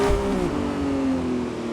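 A 1,001 HP Lamborghini Revuelto driving at the Nordschleife, its engine holding a loud, steady high-revving tone whose pitch drifts slightly down, heard close with no talking.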